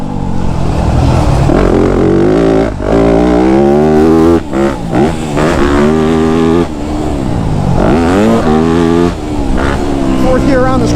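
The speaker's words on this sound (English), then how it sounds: "Fourth gear around this corner again." Yamaha YZ250F dirt bike engine in fourth gear, loud and close as it revs and shifts pitch through a corner, with a rider talking over it.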